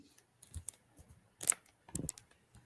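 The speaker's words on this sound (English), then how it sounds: "I can hear you clicking the computer" A few sharp clicks and taps scattered across a quiet background, like a mouse or keyboard being used close by, with no talking.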